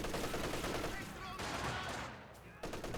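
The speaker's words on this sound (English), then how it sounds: "the other MG34 hitting the conscript squad." MG34 machine gun fire in a World War II strategy video game, heard as dense, continuous rattling bursts mixed with other battle noise at a moderate level, with two abrupt cuts.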